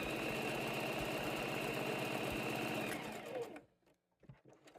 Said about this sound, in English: So we're back over at our original sewing machine, and we're just going to run a zigzag stitch across the top and back